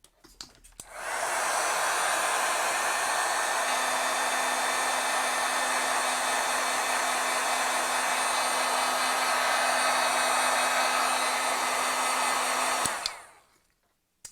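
A heat tool blows steadily for about twelve seconds to heat-set wet stamping ink, a loud, constant whooshing hum that starts and stops abruptly, with no voices.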